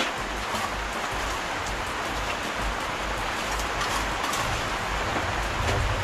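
Heavy rain pours steadily outdoors in a dense, loud, unbroken hiss with low rumbling underneath, constant for the whole stretch with no voices.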